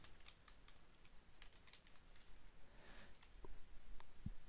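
Quick, steady clicking of fingers typing game code on a computer keyboard, close and quiet, keystrokes in a continuous uneven patter without pauses.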